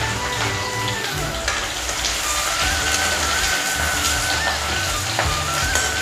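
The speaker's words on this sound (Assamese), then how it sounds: "পিঁয়াজখিনি মই এতিয়া ৰঙচুৱা হ'বলৈ ভাজি থাকিম" Chopped onions fry in hot oil, a steady, dense crackling sizzle like rain on a surface, close and continuous throughout with no talk.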